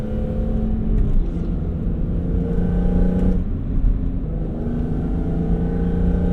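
A BMW E46 M3 CSL with an SMG gearbox drives at speed with a loud, rumbling engine drone heard from inside the cabin. There are a couple of brief shifts or throttle changes in the steady roar.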